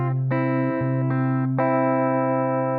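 Electric guitar picks out the opening arpeggio of a song, a few ringing notes struck one after another over sustained low tones, close and steady with no voices.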